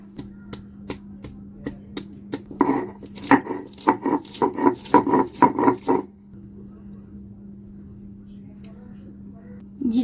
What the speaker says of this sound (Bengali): রসুন বেটে নিচ্ছি